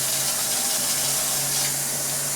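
Soapy water pours into an electric griddle in a steady splashing trickle, continuous and fairly close, with a faint hum underneath.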